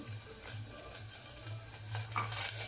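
Vegetables sautéing in a pan in a home kitchen, a soft continuous sizzle with occasional stirring scrapes and clinks, close and moderately quiet.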